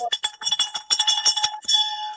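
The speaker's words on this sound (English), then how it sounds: "the bell is for victorious test takers" A small handheld bell is rung rapidly and repeatedly to celebrate people who passed an exam, bright metallic dings in quick bursts that ring on briefly at the end, close and clear with no talking.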